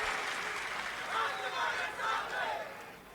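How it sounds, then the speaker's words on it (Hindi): Crowd clapping to welcome Pankaja Tai at an outdoor political rally in Maharashtra, a steady wash of applause with cheering voices that swells in a few waves across the few seconds. "एक बार ताली बजा के पंकजा ताई का स्वागत।"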